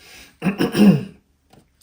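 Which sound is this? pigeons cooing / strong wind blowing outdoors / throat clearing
throat clearing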